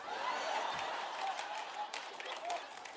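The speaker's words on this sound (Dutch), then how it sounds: "Applaus voor broeder Tutu." Audience applause rises in a church gathering, a steady wash of many people clapping at moderate volume, with some laughter and murmuring voices mixed in.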